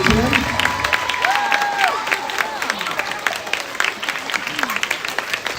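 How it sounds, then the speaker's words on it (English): A school audience applauds award nominees at a character-education assembly, with scattered clapping and some cheering mixed with background voices and a faint tonal sound, fairly loud and close. "Let's have a round of applause for Miss Whittington and Miss Schwarm."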